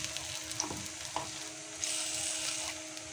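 Egg and loroco patties fry in a hot pan with a steady crackling sizzle, broken by a few brief clicks and scrapes as they are turned, the sizzle swelling brighter toward the end.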